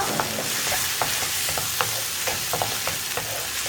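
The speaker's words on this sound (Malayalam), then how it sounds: "ഇതിലേക്ക് ഇനി ഒരു 1/2 ടീസ്പൂൺ ഗരം മസാലപ്പൊടി, ഇത്രയും ചേർത്ത് നന്നായിട്ടൊന്ന് ഇളക്കിയെടുക്കുക." Curry paste with half a teaspoon of garam masala being stirred in a frying pan for a green peas curry, a close steady sizzle broken by repeated scraping taps of a spoon.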